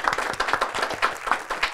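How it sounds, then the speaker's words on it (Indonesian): A stand-up comedy class audience claps for a performer: a small group's distinct, fairly close hand claps in an uneven patter, loud and separate rather than a dense roar, with no talking over them. "Tepuk tangan untuk Pak Haji."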